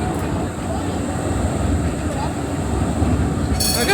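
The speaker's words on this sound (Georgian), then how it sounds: "პრაღაში ასევე მოძრაობს ტრამვაი," A tram running through the streets of Prague, a steady low rumble of wheels on rail with a faint high squeal near the end, mixed with background voices of people talking nearby.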